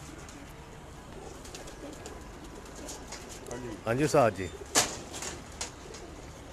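Teddy pigeons coo in a loose run of low, rounded calls at moderate distance, with a brief sharper bird note following, heard over steady background hum while someone speaks briefly.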